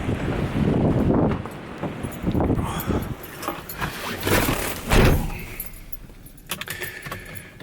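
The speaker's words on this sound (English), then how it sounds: "God, it's windy today." Strong outdoor wind buffeting a microphone on a London street, a continuous rumbling roar with heavy gusts and bursts throughout, loud and close, with no voice over it.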